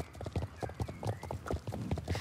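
Horse hooves walking in the video game Star Stable Online, a steady, close clip-clop rhythm of several clear hoof strikes at an even walking pace, with a brief whinny-like tone in the background.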